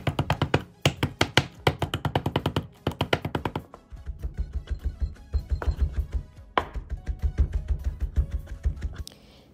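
A knife chops garlic on a board for a Moroccan prune and meat tagine, rapid rhythmic taps in quick bursts that pause briefly and resume, close and crisp throughout.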